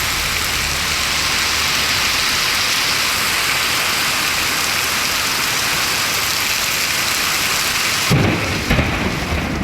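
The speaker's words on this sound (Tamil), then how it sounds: "கனமழை வெளுத்து வாங்கியது." Heavy rain with rolling thunder during a sudden gale-driven downpour, a dense, loud, steady roar of rainfall that continues unbroken, with a brief burst of louder noise near the end.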